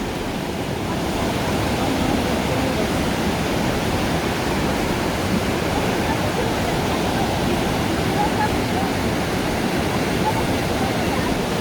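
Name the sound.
rushing river water at a river crossing in Manali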